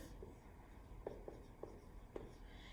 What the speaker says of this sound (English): So maybe I want to write this here.